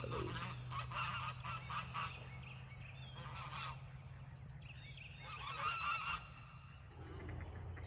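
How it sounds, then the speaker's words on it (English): A flock of Canada geese honking continuously outdoors on a mild morning, layered calls rising and falling over steady low background rumble, moderately near and without speech. "all the Canadian geese have flown in"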